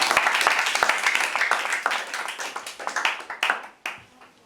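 An audience at a school debate in Lagos claps, a dense burst of applause that gradually thins into scattered individual claps and fades out within a few seconds.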